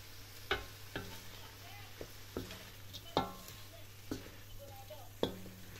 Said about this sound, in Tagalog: Tapos gigisahin ko na yung aking shrimps sa aking garlic.